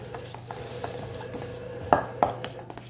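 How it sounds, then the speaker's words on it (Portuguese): A spoon stirs bread sponge dough of warm milk and flour in a bowl, making soft scraping with a couple of sharper clinks against the bowl, close and quiet, no talking. "Tô mexendo."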